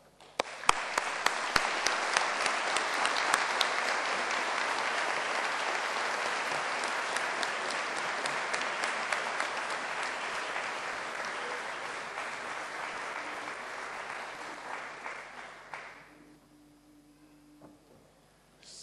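Sustained audience applause at a university graduation ceremony, dense steady clapping from a large crowd that runs about fifteen seconds before fading out to near silence.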